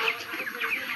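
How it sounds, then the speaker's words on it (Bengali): Chickens cluck and chatter together inside a poultry farm, several close birds overlapping in a busy, continuous stream of short calls. "আর তারপর দেখো মুরগিগুলো কত সুন্দর খাচ্ছে"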